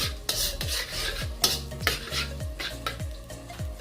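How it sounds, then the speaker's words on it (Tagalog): Garlic sautés in a hot wok for pancit bihon guisado. A close, steady sizzle runs throughout, with repeated sharp scrapes and clinks of a metal utensil against the wok about twice a second. "Then add garlic. Saute it until golden brown."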